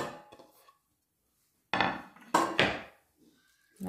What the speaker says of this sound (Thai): ใส่ส่วนผสมลงในหม้อเลยค่ะ